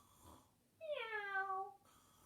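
A human voice imitates a cat meowing in a storytelling setting, giving one drawn-out, wavering meow of about a second that rises and then falls, clear and close against a quiet room.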